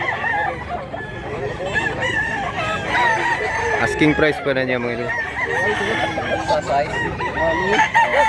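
Roosters crow and cluck at a market or yard where gamecocks are being priced, with repeated calls rising over constant chatter and background noise; people talk throughout.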